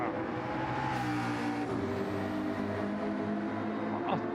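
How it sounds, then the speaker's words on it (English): A McLaren GT race car in Gran Turismo 7 at Circuit de Spa-Francorchamps during a 12-hour endurance race, its engine droning loudly and steadily with a hard, buzzing note as it comes through, with no talk over it. "Cracking sounding car is that McLaren."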